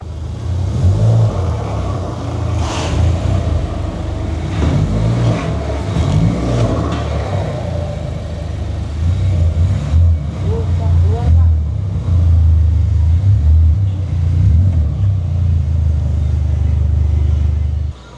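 A tuned car engine revs repeatedly at a workshop, deep rumbling rises and falls close by and fairly loud, with people talking over parts of it.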